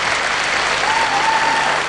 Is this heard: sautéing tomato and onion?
no